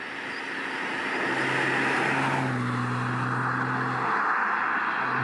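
A Lotus Carlton saloon car driving with a steady engine drone that rises slightly in pitch midway, heard continuously at moderate distance with no talk.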